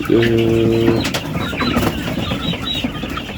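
Texas broiler quails, about 25 hens and cocks kept together in one cage, give a short ringing call up close, then keep up a busy scatter of chirps, clucks and rustling.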